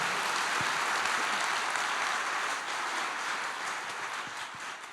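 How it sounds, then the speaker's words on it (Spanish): A church congregation applauds the Lord, broad steady clapping that fills the space, fairly distant and even, slowly tapering toward the end with no voices over it. "un fuerte aplauso al Señor"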